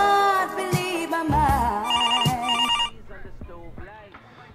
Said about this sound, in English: Stevie, answer the phone.